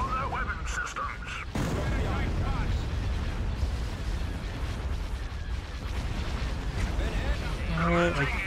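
Starship weapons fire and explosions in the space battle game Thrawn's Revenge: a heavy, continuous roar of blasts and booms with laser-like zaps. Speech runs over the combat throughout, and brief tonal beeps come near the end.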